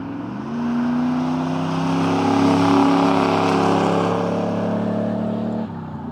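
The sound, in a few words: 1995 Camaro Z/28 engine and exhaust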